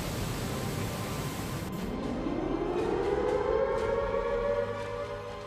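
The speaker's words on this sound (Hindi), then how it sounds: "चिनाब नदी उफान आई तो खतरे के सायरन बजने शुरू हो गए।" A civil defense siren warning of flood danger from the swollen Chenab River in Doda, Jammu and Kashmir, rising in a long, slow wail that swells and holds steady over distant background noise.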